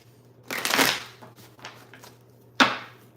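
Tarot cards being shuffled in short riffling bursts: a longer flurry, a few soft shuffles, then one sharp final snap, close and fairly quiet.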